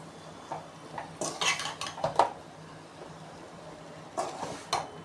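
Hakka noodles are stirred in a pan with a metal utensil, bringing irregular clattering scrapes and knocks in short bursts with quiet gaps between them.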